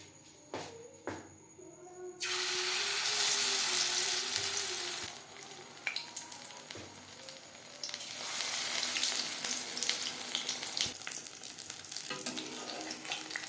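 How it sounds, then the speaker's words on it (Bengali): Battered fish fries in six spoons of hot refined oil in a kadai. The sizzle bursts in loudly after a quiet start, then crackles steadily with some shifting and stirring noises, with no talking. "ফিশ ফ্রাই তৈরি করবার জন্য কড়াইতে 6 চামচ রিফাইন্ড অয়েল গরম করে নিয়েছি"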